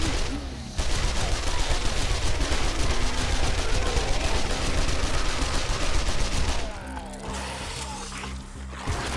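Rapid sustained gunfire tears into zombies in 7 Days To Die, a loud dense burst of shots for several seconds that thins out near the end, with no voices over it.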